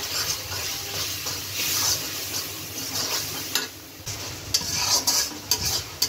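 Spices with turmeric frying in a home kitchen pan, a soft steady sizzle with scraping and knocking strokes of the stirring spoon at close range.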